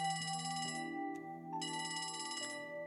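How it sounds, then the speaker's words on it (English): Electronic ringtone of a phone in the game Trails from Zero, two bright trilling bursts separated by a short pause, clear and close with no voices over it. "Oh, a phone call?"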